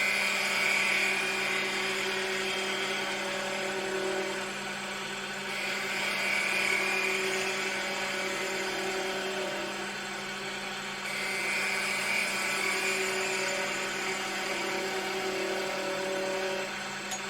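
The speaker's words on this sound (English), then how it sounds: "I'm going to take the spindle gouge and I'm just going to refine this a little bit here" A spindle gouge refines a small wooden ornament spinning on a lathe, making a continuous close whirring hum with a steady scraping hiss that swells and eases in a few long passes, with no talking.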